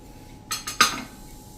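A metal spoon scrapes and clinks against a bowl in three quick strokes, close up, mixing semolina and gram flour, with no talking.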